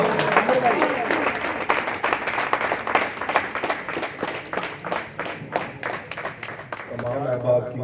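A crowd at a poetry evening claps steadily for several seconds, loud and dense, then the applause fades as a voice begins to speak.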